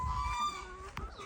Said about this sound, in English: There's the little tiny hen.